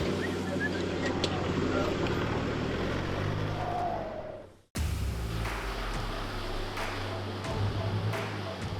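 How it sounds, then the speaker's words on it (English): A Nissan Navara's turbocharged engine is working hard under acceleration on a steep 4WD track, a loud sustained roar with low rumble and wind noise. It drops out briefly midway, then the steady drone resumes. "As you can hear the turbo."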